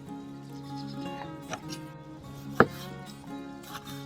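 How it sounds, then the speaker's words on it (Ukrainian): A knife chops a fleshy homemade bell pepper into cubes on a board, giving a few scattered knocks, one sharply louder, over a steady background hum. "Перчик отак кубатурою."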